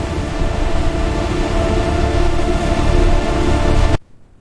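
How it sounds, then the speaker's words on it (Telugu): A train pulls away from a rural station, a loud, steady rumbling roar that holds evenly and then cuts off abruptly near the end. "ట్రైన్ వెళ్ళిపోయింది."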